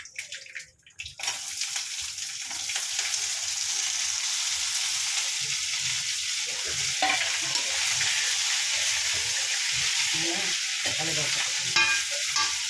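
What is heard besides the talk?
curry simmering and frying in a pan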